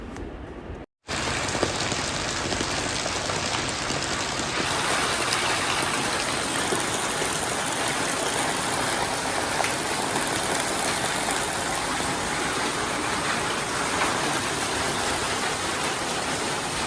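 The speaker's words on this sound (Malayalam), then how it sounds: "നല്ല മഴയാണ് കേട്ടോ" Heavy rain pours steadily and loudly outdoors, a dense unbroken hiss and patter that runs the whole time after a brief dropout near the start, with no voices.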